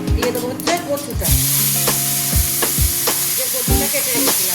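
Cut mankochu taro fries in hot oil, sizzling loudly and continuously while a spatula stirs and scrapes the pan in repeated knocks; after a second the hiss swells brighter as the taro goes in.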